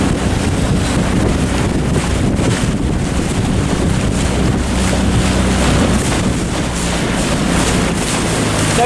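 Strong wind gust hitting a 29er sailing dinghy out on the water, loud steady roar of wind buffeting the microphone with hull and wave wash underneath, no voices.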